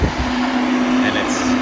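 A huge fan runs close by on a hot day, a steady whooshing hum with a constant tonal drone that continues without a break over the short stretch.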